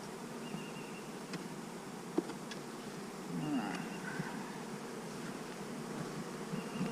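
Honeybees buzz steadily around an overwintered hive during an outdoor inspection, a continuous low drone with faint sharp clicks and knocks from handling, murmured voices now and then underneath.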